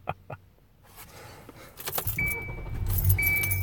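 A car is switched back on as keys jangle in the ignition, followed by a steady engine and electrical hum inside the vehicle with a faint high whine, with no one talking.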